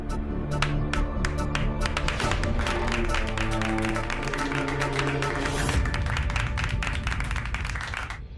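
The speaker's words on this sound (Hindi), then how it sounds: "अरे ताली बजाओ, लौट कर आया है।" An audience claps to welcome a man who has returned. The dense, continuous applause is loud and close, with music-like tonal sounds running underneath.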